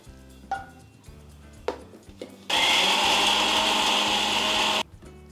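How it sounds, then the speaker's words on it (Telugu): A kitchen blender grinds a paste in a loud, steady whir that runs for a little over two seconds. Scattered clinks and knocks from handling come before it, and it stops abruptly. "ఇప్పుడు ఇది మంచిగా గ్రైండ్ చేసుకుందాం."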